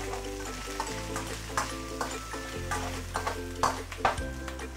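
Lower parts of spring onion stir-fry in a wok with a soft sizzle and intermittent clacks of tossing and stirring, heard under steady background music.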